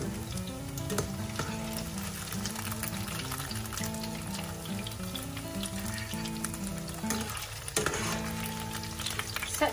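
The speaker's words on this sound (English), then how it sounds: "Do not over fry the beancurd, just till it turns a little golden brown." Beancurd frying in oil in a pan until lightly golden, a steady close sizzle and crackle running throughout with no talk.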